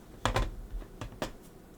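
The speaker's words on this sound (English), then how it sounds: "You get to hear my mechanical keyboard loud and proud because it's right next to the mic in this setup." Clicky keystrokes on a mechanical keyboard placed right beside the microphone, a few loud, separate key presses arriving irregularly over a quiet background.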